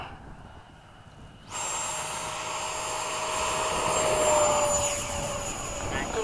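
An F-5 jet model aircraft roars to life for takeoff, its engine cutting in abruptly with a loud, steady whine and rumble that swells as it climbs away, in cloudy weather after repairs.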